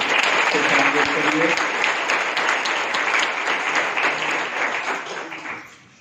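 An audience at a school event applauds to welcome a speaker, a dense, loud burst of clapping that holds steady and then tapers away, with a voice speaking over it near the start.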